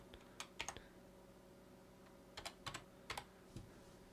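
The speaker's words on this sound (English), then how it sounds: "You type in your captcha code." Keys clack on a computer keyboard as a captcha code is entered, short bursts of quiet, close keystrokes separated by pauses, with no talking.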